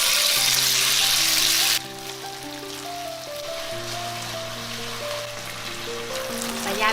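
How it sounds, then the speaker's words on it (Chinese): Duck meat pan-frying in hot oil in a flat pan, a loud steady sizzle that starts bright and crackling, then settles to a softer continuous fry, with tonal music running underneath. "油温热了之后，把鸭肉放下来煎一下"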